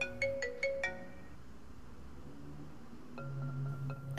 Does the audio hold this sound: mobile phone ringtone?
yes